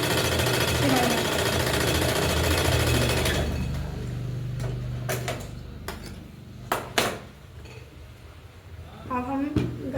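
A sewing machine stitches blouse fabric in a steady, loud mechanical run for the first few seconds, then falls quiet apart from scattered clicks and handling noises.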